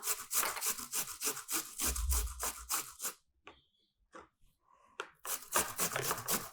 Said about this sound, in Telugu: సో ఈ విధంగా మనం ఆల్మోస్ట్ ఉల్లిపాయనంతా ఈ విధంగా గ్రేట్ చేసేద్దాం